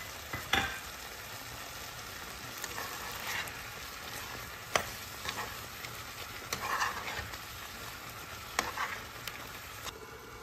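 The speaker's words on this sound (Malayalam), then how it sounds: "മെത്തി ലീവ്സ് ചേർത്തതിന് ശേഷം എല്ലാം കൂടി നല്ലോണം ഒന്ന് മിക്സാക്കി എടുക്കാം" Methi chicken masala with fenugreek leaves is stirred in a pan, a soft continuous sizzle broken by repeated scraping and clinking strokes of the spoon.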